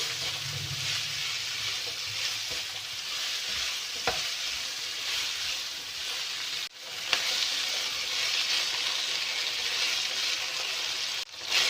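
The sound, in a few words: vegetables sautéing with spices in a pan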